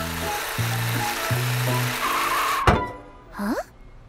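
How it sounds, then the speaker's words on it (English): A bus engine rumbles steadily nearby in a cartoon city, unseen, with a low droning hum and a sharp thunk near the end, followed by a short rising cartoon effect. "I can hear the bus, but I can't see it, Morphle."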